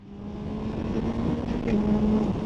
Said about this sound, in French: cette boîte, alors on le voit avec cette petite accélération